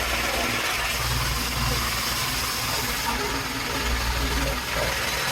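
A car engine drones steadily while driving, as a constant loud broadband rumble and hiss with no breaks, filling the whole stretch.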